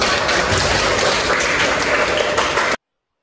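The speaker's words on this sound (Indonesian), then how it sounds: "Tepuk tangan dong" Lively applause from an audience at a university session in Malang, dense and even clapping for about three seconds before cutting off abruptly into silence.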